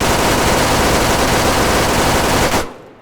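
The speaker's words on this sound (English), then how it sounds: "The actual gunfire report sounds a lot more realistic than it used to be." Loud, continuous roar of rapid-fire minigun shooting in the video game ArmA 3, a dense unbroken stream of shots that cuts off abruptly near the end.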